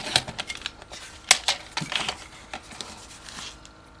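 Chipboard is cut by hand in a series of short, sharp crisp snips and crunches, irregular and close, with quiet gaps between strokes.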